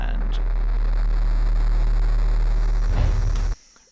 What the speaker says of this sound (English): used a synthesizer to make some white noise.